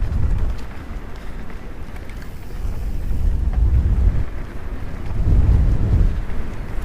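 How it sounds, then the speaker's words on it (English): Gusty wind buffets the microphone during a breezy e-MTB ride on a trail toward Chatsworth House, with low rumbling surges that swell and fade in waves and no talking. "Quite breezy on this section."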